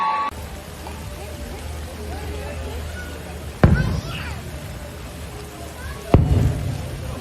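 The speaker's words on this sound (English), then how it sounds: "I don't like the fireworks, Kim." Fireworks sound effect played in a studio, two sharp bursts with crackling tails standing out over a steady murmur of background noise.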